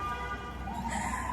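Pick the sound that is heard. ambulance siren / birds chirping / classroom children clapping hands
ambulance siren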